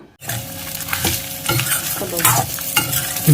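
Masala spices for a chicken gravy sizzle in a hot pan while a spoon scrapes and stirs them in repeated close strokes, the frying hiss continuous underneath.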